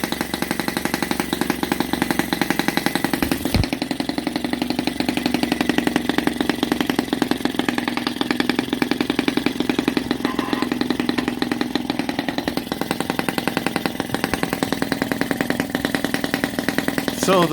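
A homemade brass Deutz 122 F model tractor fitted with an OKMO 1.6cc mini four-stroke gasoline engine under a housing, running steadily with a continuous buzzing drone and a brief knock partway through.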